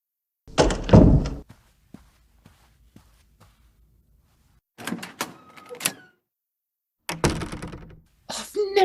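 An indoor door is flung open with a loud thunk, followed by quieter knocks and footsteps, then further bursts of door handling and movement, including a heavy slam near the end.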